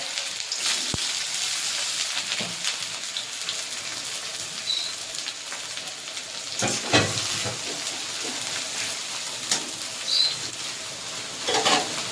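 Onions sizzling steadily in hot mustard oil in a wok, a continuous crackling hiss with a few scattered clinks and spits, fairly loud and close, no talking.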